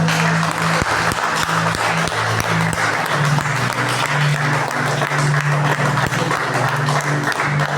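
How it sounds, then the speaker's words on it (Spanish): Loud sustained applause from a large church congregation during a sermon, dense clapping throughout with a steady tonal hum underneath. "Dale un fuerte aplauso."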